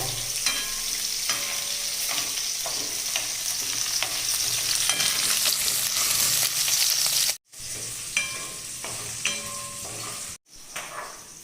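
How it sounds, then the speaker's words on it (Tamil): Ginger, garlic and chilli fry loudly in a pan for bread chilli, with stirring strokes over a dense sizzle and two brief cuts to silence near the end. "இப்போ இஞ்சி பூண்டு மிளகாய் போட்டுக்கலாம். இப்போ கொஞ்சம் வணக்கி விட்டுக்கலாம் ஒரு நிமிஷத்துக்கு போல."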